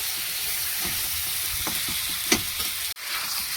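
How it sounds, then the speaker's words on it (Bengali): Potato and cauliflower sizzle steadily in hot oil in a pan, a continuous close crackling hiss with a few louder pops and a brief thump near the end. "আলু ফুলকপিটা ভালো করে ভেজে নিয়েছি, ভালো করে তেল ছেড়ে দিয়েছে।"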